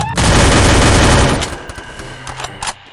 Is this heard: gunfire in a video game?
yes